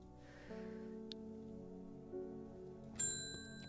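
A shop door bell in the video game Strange Horticulture gives one bright, ringing ding near the end over a quiet, sustained musical drone, with a faint chime earlier.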